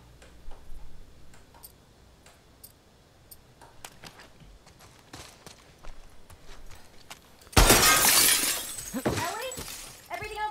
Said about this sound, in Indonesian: Pecahkan kaca adalah keahlianku.